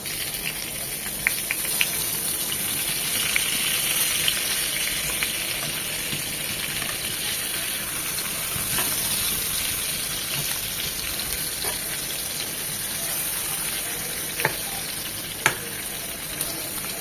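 Eggplant pieces fry in hot oil in a pan for a Bengali eggplant dish, giving a steady, close sizzling hiss with occasional light clicks and scrapes from stirring; no one speaks.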